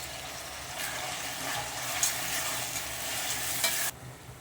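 Tomatoes and two green chillies sautéing in a pan for a Tamil-style fish curry, a steady close sizzle with scraping stir strokes and occasional louder clinks, cutting off sharply near the end.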